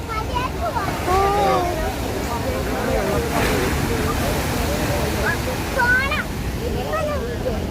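Sea waves washing against a pier, a continuous rushing surf with wind noise, under nearby voices talking throughout.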